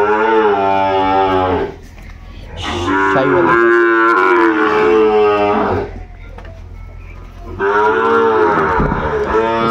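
Sahiwal breed bull calves moo close by in three long, loud, drawn-out calls separated by brief pauses.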